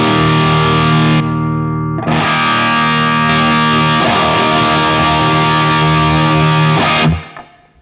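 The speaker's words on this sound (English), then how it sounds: "let's go to the lead boost, and I'm gonna play a chord and hit it so you can hear the volume jump." An electric guitar chord played through the lead boost of a Hughes & Kettner Tubemeister 18 tube amp rings out loud and distorted. It is struck three times and sustains heavily before a final decay.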